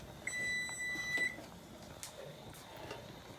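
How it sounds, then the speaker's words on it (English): A kitchen timer beeps while pasta cooks, a single sustained high electronic tone lasting about a second, followed by quiet room noise. "There's the beep."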